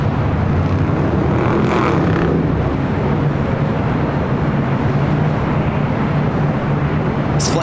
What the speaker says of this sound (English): It's flight 204 coming up from Seoul, the next A380 Super arrival.